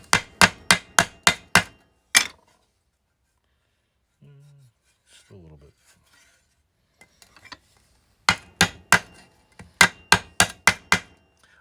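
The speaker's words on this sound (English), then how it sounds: "I think it's a shoemaker's hammer." A shoemaker's hammer taps a rusty metal part in quick, sharp bursts of metallic strikes, with a pause where a person briefly speaks, then another rapid run of close, loud taps.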